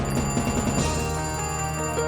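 A home telephone rings in the video game Beyond Eden, a bright repeating electronic trill sounding over a sustained low musical backdrop, moderately loud, with no talking.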